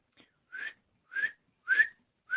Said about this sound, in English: It's not very good whistling